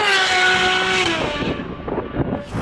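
A Ferrari 812 GTS fitted with a Novitec N-Largo exhaust, loud and close, holding a high steady engine tone before it drops into rough, rapid crackling and popping on the overrun.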